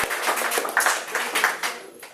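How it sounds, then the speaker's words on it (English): An audience at a youth gathering at an MLK Jr. recreation center claps for a guest, a brief burst of mixed hand claps and applause from a nearby crowd that thins toward the end. "Give him a round of applause"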